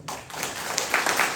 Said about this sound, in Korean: 우리 박수 쳐야 됩니다.